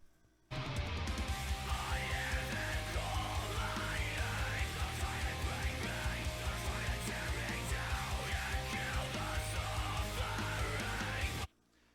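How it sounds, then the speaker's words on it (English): A recorded screamed vocal track played back loud and steady, a distorted, strained voice with wavering pitched lines over a low thumping rhythm, starting abruptly and cutting off cleanly at the end. "I call it screaming, and it sounds a little like this"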